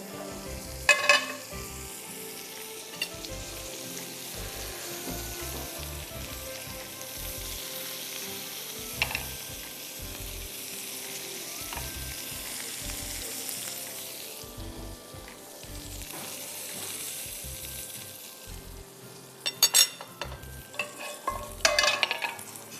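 Egg-white omelette frying in a frying pan, a steady close sizzle running throughout with repeated spatula scrapes and taps, growing busier and louder toward the end.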